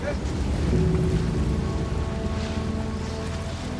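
Heavy storm surf churns and crashes in a continuous roar, with wind-driven rumble and a faint voice underneath.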